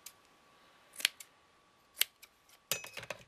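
Large scissors snip through a paper panel for a shabby chic doily craft, giving a few sharp, close cuts spaced about a second apart, then a quicker cluster of snips at the end.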